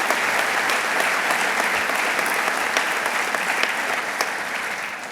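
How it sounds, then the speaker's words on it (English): A room full of people applauding steadily, dense clapping that holds for several seconds before starting to taper off. "Let's give you a round of applause, the people in this room."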